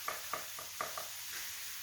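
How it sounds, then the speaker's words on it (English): Close, crackling sizzle of sausages frying in a pan, with a few clinking scrapes of a utensil stirring. "Hear that sizzle?"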